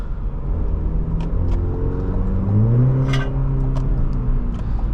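A 2020 Cadillac CT4-V AWD cruising on the freeway, its engine a low steady hum under road rumble, rising briefly in pitch as it accelerates.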